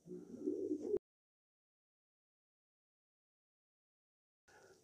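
Breeding racing pigeons coo in a pigeon loft, a low burbling call for about a second, then silence before a short return of cooing at the very end.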